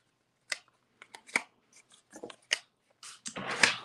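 Scissors make a few quiet, separate snips while trimming a small strip of paper for a fun-fold card, ending in a brief rustle of paper.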